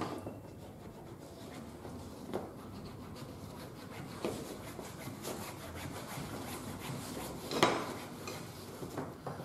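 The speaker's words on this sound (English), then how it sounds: "Quick rubbing stick. Bit of tallow fat." Leather dog lead being rubbed with a rubbing stick and tallow fat, a steady close scraping friction with brief louder strokes, no talking.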